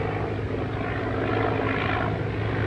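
A 1939-era propeller airplane drones overhead in a steady, broad engine hum that swells slightly midway, with no voices over it.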